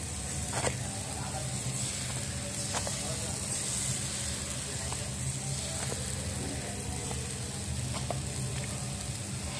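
Jali paratha batter, lightly brushed with oil, fries on a nonstick pan with a constant soft sizzle and hiss and a few faint clicks, heard alone without talk.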